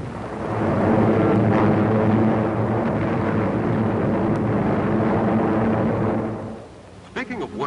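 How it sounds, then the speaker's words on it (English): A WWII bomber aircraft drones in a loud, steady roar that holds for several seconds, then drops away near the end, leaving brief quieter sounds. "our bombers are finding their targets through the blackness of night or any kind of weather"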